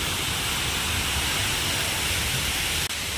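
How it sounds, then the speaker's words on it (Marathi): A waterfall in Goa roars with a constant, loud, broadband rush of falling water, steady and unbroken throughout, with no voices over it. "हा इकडनं वरून पडतोय पाणी धबधबा"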